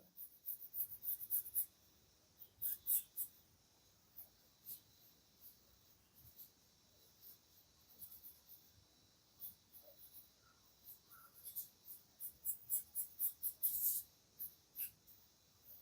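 Pencil drawing simple lines on paper, soft scratchy strokes coming in short bursts, some single and some in quick rhythmic runs, close and quiet against a hushed room.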